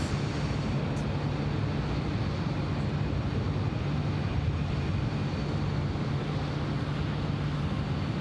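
A four-engine jet aircraft at Sydney Airport produces a broad, steady roar that holds constant and fills the whole clip without any talk over it.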